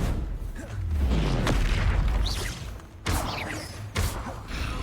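Confringo fire spell blasts in Hogwarts Legacy boom out in a loud, rumbling barrage, with whooshing bursts and two sharp impacts later on amid dense game noise.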